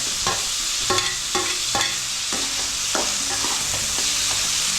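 Onions and tomatoes sautéing in a pan for spicy potato bhaji, a loud, close sizzle broken by a regular series of spoon scrapes and knocks against the pan, without any talk.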